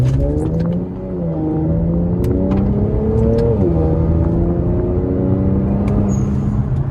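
An Infiniti Q60 engine with an HKS blow-off valve and AMS intakes revs steadily nearby, its pitch climbing then dropping as it shifts gears and climbs again, loud and continuous.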